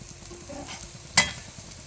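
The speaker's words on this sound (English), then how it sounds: "So you can add the rava once the onions are cooked. So now I'm adding the rava." Semolina (rava) frying with cooked onions in a pan for upma, a soft steady sizzle with light stirring and one brief sharp scrape.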